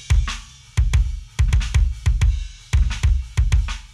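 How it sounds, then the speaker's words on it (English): A raw, unprocessed kick drum from the first kick mic in a death metal mix hits in fast double and triple bursts, loud and punchy with a sharp click on each attack, alone with no talk. "Let's move on with the kick drum."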